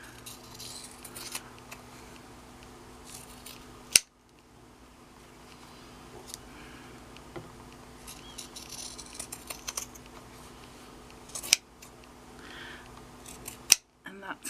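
Scissors snip along fabric coaster edges in quiet, irregular cuts, soft crisp clicks scattered across the clip with a few sharper handling knocks.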